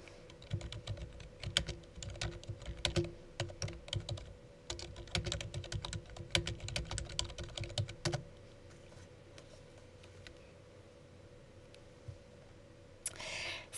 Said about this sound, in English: So let me type a couple of things to demonstrate that for you.